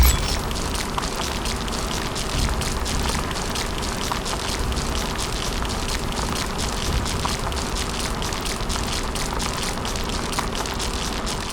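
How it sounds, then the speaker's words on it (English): Steady rain falls in the sci-fi game The Riftbreaker, a dense, even patter of drops holding at one level from start to finish with no voices over it. "The rain is over."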